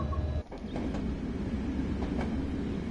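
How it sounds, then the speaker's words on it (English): A train in Train Sim World 4 rolls along steadily with a low rumble, a sharp clack near the start and faint rhythmic clicks of wheels over switch frogs. "I do like the sound effects though, going over the frogs on the switches."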